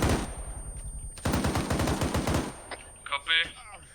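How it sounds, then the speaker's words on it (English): Gunfire in Arma 3 during a military simulation operation, a sharp opening burst, then a rapid automatic string of shots, followed by quieter scattered sounds and a brief voice. "Right guys, keep firing, keep firing."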